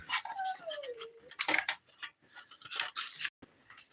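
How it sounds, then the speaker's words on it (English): A puppy dog whines and whimpers at close range wanting to be let outside, a drawn-out descending whine followed by scattered ticking and clicking sounds like claws on a hard floor, no speech. "I gotta let this puppy dog out. He wants to go outside."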